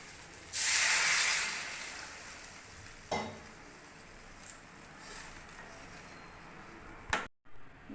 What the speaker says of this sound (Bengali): আলু আর মশলা ভালো করে ভেজে নিয়েছি, মশলা থেকে তেল ছেড়ে গেছে। এবার জল দিয়ে দেবো।